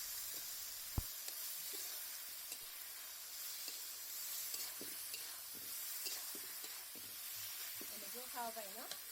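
Brinjal pieces fry in a pan with a soft, steady sizzle and scattered faint crackles and pops, heard alone and fairly quiet throughout.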